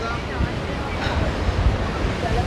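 Sea waves wash onto the shore near Jaffna, Sri Lanka, as a continuous loud rushing surf mixed with wind buffeting the microphone.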